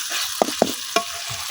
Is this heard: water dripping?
no